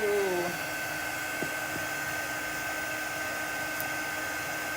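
A hair dryer blows steadily up close, drying black chalk paste on a craft project, its even whirring hum continuous throughout with no talk over it.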